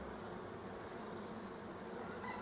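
A honeybee colony hums in a dense, steady buzz, faint and continuous, with no voices present.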